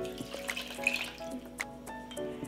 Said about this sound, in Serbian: Ovako dobijen sok sipat ću u šerpu preko celera.